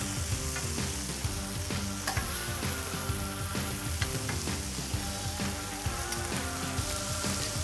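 Steak sizzling steadily on a hibachi grill, a dense, crackling hiss that stays even and close throughout with faint scraping and popping.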